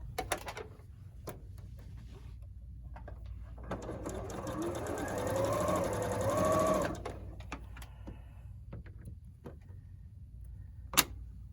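Sewing machine stitching quilt block pieces, a steady mechanical whir building in the middle of the clip between quieter stretches of clicks and handling noises, with no talking.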